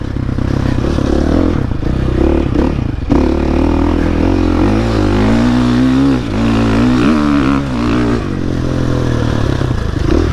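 Motorcycle ridden on a small, tight dirt track in Tennessee, its engine loud and close throughout, revving and dropping repeatedly as the rider works the throttle through turns, with some clattering mechanical noise.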